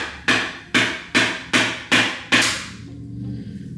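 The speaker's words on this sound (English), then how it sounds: "I have a coconut I have to break. I want to do it with a hammer." A hammer strikes a whole coconut five times in an even, quick rhythm, each blow a sharp, close knock with a short ring. The blows stop and quiet follows.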